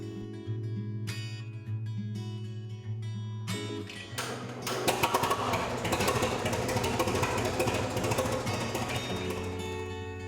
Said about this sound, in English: If you like the whirring of engines